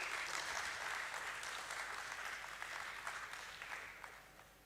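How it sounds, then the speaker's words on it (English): An audience at the Borosil Scientific listing ceremony at the BSE gives a sustained round of applause, dense and steady at first, then thinning and fading toward the end. "Let's have a huge round of applause for him"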